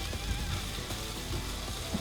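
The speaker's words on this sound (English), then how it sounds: "So we're just frying all that together." Ingredients for baked eggs in tomato sauce sizzle and fry in a pan on a van stove, a steady, quiet crackle with occasional small pops.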